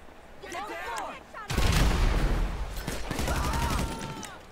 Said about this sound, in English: the peace signs go away and the automatic weapons come out